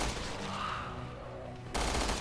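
Gunfire in Resident Evil Revelations 2 Raid Mode, a rapid burst of game shots blending into a dense rumbling volley, then a louder broadband blast near the end, with no talk over it.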